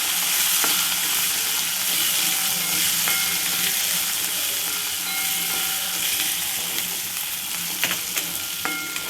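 Garlic cloves, small shallots and dry red chillies frying in oil in a pan for curry leaf gravy, a steady loud sizzle with occasional spoon scrapes and clinks, no voices.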